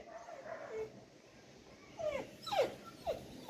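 A puppy indoors in a quiet home gives faint, short whimpers and yips, several rising-and-falling cries bunched toward the end.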